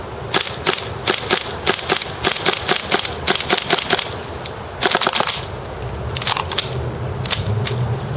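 Gas vents from a WE PDW airsoft gas magazine with the bolt catch held down: a run of sharp clicks and short hissing bursts, then longer broadband hisses, close and loud.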